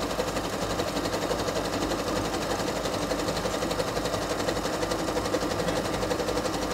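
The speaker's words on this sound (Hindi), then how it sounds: "मशीन को ऑन किया हुआ है, अभी मैं इसको यहाँ से स्टार्ट कर दूंगा।" A Singer School Mate SM10 sewing machine stitches steadily, with a fast, even, rapid clatter that carries on loud and close throughout, without any speech.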